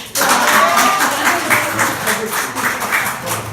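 Applause rises from a church congregation after a sermon and baptism, a steady wash of clapping that fills the room for a few seconds without words.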